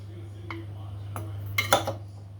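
A ladle scooping cooked pork fried rice, with a few soft scrapes and clinks of metal against a pan, then a cluster of sharper clatters near the end over a steady low hum.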